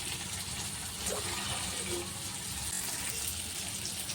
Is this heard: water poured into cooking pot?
yes